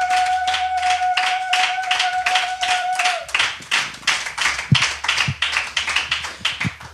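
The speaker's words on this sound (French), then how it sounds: "Est-ce qu'on peut acclamer pour la présence du Saint-Esprit?" A church congregation breaking into rhythmic clapping for the Holy Spirit, steady unison hand claps that grow denser and more scattered, with a sustained tone fading out early on.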